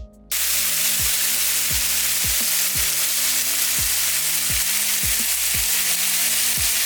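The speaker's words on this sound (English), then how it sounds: "it's time to put our gorgeous thick cut bacon into the pan and let it sizzle" Thick-cut bacon sizzles loudly and steadily in a hot pan, with a dense crackling hiss and occasional soft thumps of the pan being moved.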